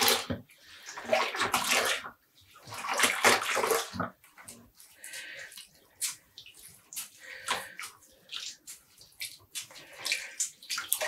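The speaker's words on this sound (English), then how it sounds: "I don't twist it, I just squeeze the water out." Rinsed, freshly dyed yarn is squeezed by hand over a basin, giving bursts of splashing, dripping water in several separate squeezes with short quiet pauses between.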